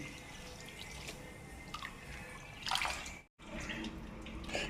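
Water is poured into a vessel for soaking in a home kitchen, producing a faint, steady trickle with scattered drips and one brief pause before the flow resumes.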